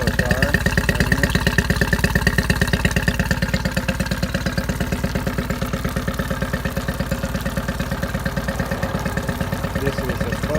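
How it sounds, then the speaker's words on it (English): An 8hp Yamaha outboard motor runs steadily at idle, a close, continuous rapid putter with a dense mechanical clatter, holding an even rhythm throughout without rising or falling. "This is a perfect running motor."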